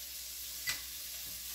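Chopped onions hit a hot pot with a brief, sharp sizzle burst, then settle into a faint steady crackle with no talking.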